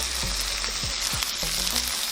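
Carrots and cabbage being stirred as they fry in a pan, a loud steady sizzle close by with rhythmic scraping strokes from the stirring, and no speech.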